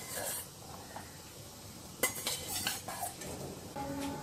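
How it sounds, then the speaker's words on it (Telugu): Fried bitter gourd pieces tipped into a pan of frying onions, quiet background sizzle broken by a few sharp clinks and scrapes of a utensil against the pan. "వేయించి పెట్టుకున్న కాకరకాయ ముక్కలను వేసుకోవాలి."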